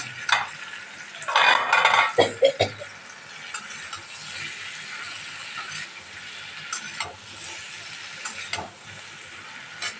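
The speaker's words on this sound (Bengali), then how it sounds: "এবার সেদ্ধ করে রাখা আলুটা দিয়ে দিলাম দিয়ে আবার একটু ভালো করে নেড়ে চেড়ে নিই" Pumpkin and boiled potato stirred in a cooking pan, a spatula scraping and knocking at intervals over a low steady sizzle, with a busier burst of clatter early on before the sounds settle into occasional scrapes.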